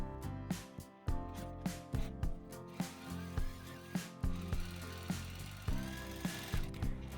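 Sewing machine stitching a 0.3 cm seam along a curtain hem, heard close up as a rhythmic run of mechanical thuds and clicks with short pauses between stitch bursts, alone without talk.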